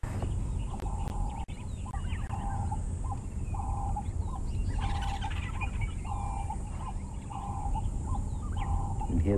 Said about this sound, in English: You can hear the birds calling